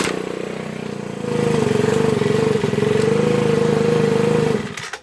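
A Ryobi 4-cycle leaf blower engine with a fault that makes it stall under throttle runs loudly and steadily at a constant mid-pitched drone for several seconds, then cuts out abruptly.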